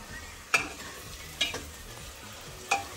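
Mutton masala roasts in a kadahi with a soft, low sizzle, punctuated by three sharp metallic scrapes of a stirring spoon spaced about a second apart.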